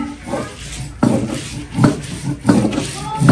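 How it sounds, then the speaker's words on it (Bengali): Onions being ground into paste on a traditional grinding stone for a shrimp bharta, with repeated rough scraping and rubbing strokes close by, each pass a gritty grinding sweep in a steady back-and-forth rhythm. "এই যে আম্মা এখানে পেঁয়াজ বেটে নিচ্ছে"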